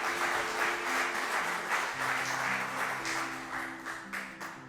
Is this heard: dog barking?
no